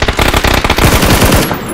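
Rapid automatic gunfire in the PUBG battle royale game, a loud, close burst of quick repeated shots lasting under two seconds with no talking.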